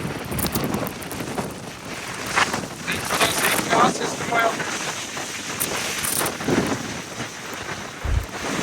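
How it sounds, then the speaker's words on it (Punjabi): A violent storm with strong wind and rain roars loudly and without a break, gusts buffeting hard against the microphone and deep rumbles surging through it, while people's voices come through faintly underneath. "ਤੂਫਾਨ ਜ਼ਿੰਦਗੀ 'ਚ ਪਹਿਲੀ ਵਾਰ ਦੇਖ ਲਿਆ"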